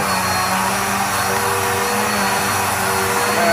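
Black + Decker upright vacuum cleaner running at close range, a loud, steady motor whine with a constant airy rush throughout.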